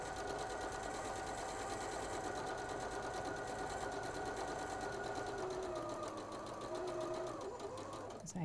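A sewing machine runs steadily with a fast, even mechanical whir as it top-stitches a dress seam, faint and continuous, slowing slightly near the end.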